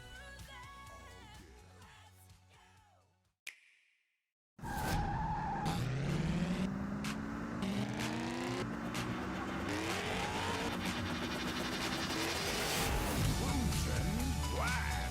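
Arcade racing cars in Cruis'n Blast, set in London. After a brief silent gap, loud roaring engines rise in pitch and tires squeal repeatedly, close and continuous, layered over game music.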